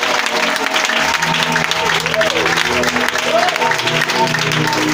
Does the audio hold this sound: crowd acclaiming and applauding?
yes